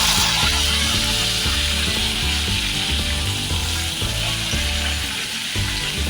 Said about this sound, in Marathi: कांदे पण छान आपल्याला असे गोल्डन कलर येईपर्यंत आपल्याला फ्राय करून घ्यायचे आहेत तेलात